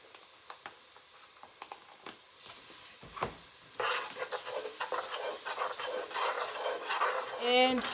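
Chopped celery and onion sizzling in a pan for shrimp étouffée, stirred with a utensil that scrapes and taps the pan; quiet at first, then a steady louder sizzle with rhythmic stirring.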